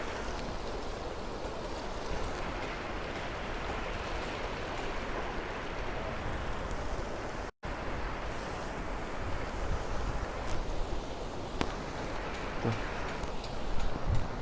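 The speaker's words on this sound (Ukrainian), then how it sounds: "Ви подивіться на цю ширину, ви подивіться на ці хвилі. Подивіться на цю швидкість." Floodwater of the Lybid river in Kyiv, overflowing its banks and rushing with waves, makes a loud, continuous roar and churning wash with wind buffeting the microphone, broken by a brief cut midway and no talking.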